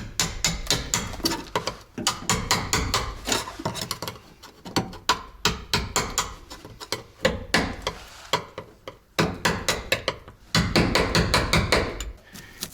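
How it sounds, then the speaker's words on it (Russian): Rapid metallic tapping and knocking from a hammer and screwdriver on the sheet-metal cab of a Soviet-era KamAZ 4310 truck, irregular bursts of close, sharp strikes with brief pauses. "Берем вот такую отверточку, молоточек и погнали."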